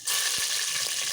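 Mustard and fenugreek seeds crackle and splutter in hot oil in a pressure cooker for South Indian radish sambar, a loud, dense sizzle with a few pops.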